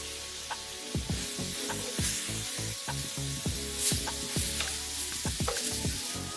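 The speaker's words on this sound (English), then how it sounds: "We ain't wasting no time in that same skillet, drop them shrimp on them." Shrimp searing in a skillet coated with leftover drippings from an earlier cook, a steady loud sizzle with repeated scraping stir strokes and clatter running throughout, no voices.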